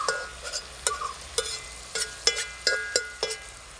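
Tomatoes and onions sautéing in a pan for a chicken roast, with a steady low sizzle and roughly a dozen sharp spoon scrapes and taps against the pan at a brisk, uneven rhythm, close by.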